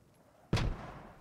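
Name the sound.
artillery shelling from far away in a WWII video game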